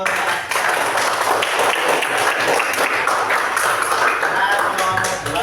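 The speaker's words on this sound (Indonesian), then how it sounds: "Tepuk tangan untuk" A classroom group claps for the second group of teachers during an academic supervision session, dense steady applause filling the whole stretch, with some voices mixed in underneath.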